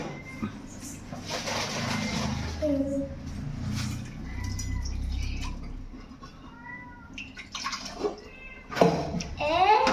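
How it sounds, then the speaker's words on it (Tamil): Water splashes and pours in bursts while people talk and a cat meows nearby, the pouring loudest near the start. "தண்ணி ஊத்திட்டாங்க."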